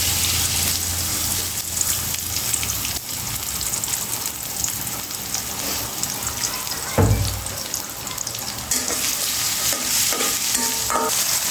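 Fish cooking with greens, onion and green chilli in hot oil, a dense, loud, rain-like sizzle holding steady, with one heavy thump and a few scraping stirs midway, no voices.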